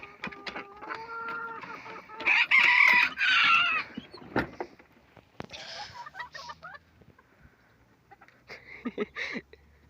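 A rooster crows loudly nearby, with hens clucking and scattered knocks and rustling around it in a busy chicken yard.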